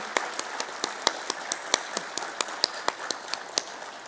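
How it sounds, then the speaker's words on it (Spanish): An audience after a conference talk claps sparsely, with about a dozen separate sharp claps spaced unevenly through a quiet hall, faint and fairly distant. "Nuevamente sirva nuestro aplauso para esta exposición"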